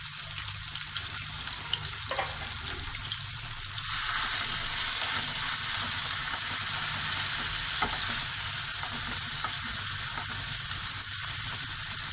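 Chopped medium-sized onion frying in a pan for a radish and spinach bhujia: a steady sizzle swells louder partway through and keeps hissing evenly, close and without speech.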